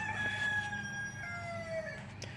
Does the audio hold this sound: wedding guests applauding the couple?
no